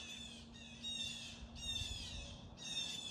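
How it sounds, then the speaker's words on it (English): Blue jays squawking outdoors on the New Hampshire coast, a run of four harsh, repeated calls in quick succession, fairly faint and distant over a low steady background hum. "Blue jays are squawking."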